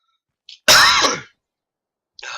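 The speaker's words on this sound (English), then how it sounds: "sorry for the coughing" A single harsh cough or throat-clearing burst from a person playing a video game, close and fairly loud, with short faint noises just before and after.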